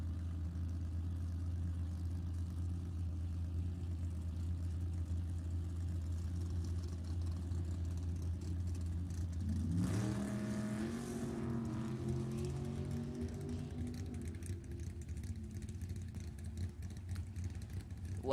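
A 67 Corvette and a 71 Cuda drag racing at a race club event idle loudly at the line, then launch together with a sharp, rising engine roar that sweeps upward and stays heavy before easing off.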